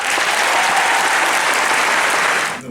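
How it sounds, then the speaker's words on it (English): Loud, dense audience applause for student officers at a closing ceremony, sustained evenly before tapering off at the very end. "please give them a round of applause."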